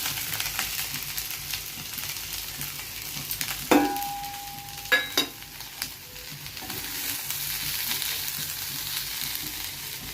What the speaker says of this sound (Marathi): मिरच्या परतून झालेल्या आहेत. आता मी त्यात बटाटे घालते.